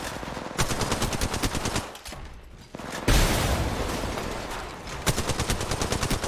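Rapid automatic gunfire in the mobile game Apex Legends, loud and close, in long sustained bursts with a brief lull and a heavy blast partway through, no voices.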